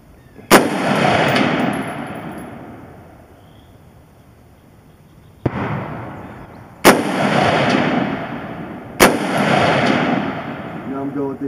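A DPMS Oracle AR-15 fires 5.56 tracer rounds at an outdoor range with steel targets: four sharp, loud shots at uneven intervals, each followed by a long rolling echo that fades before the next.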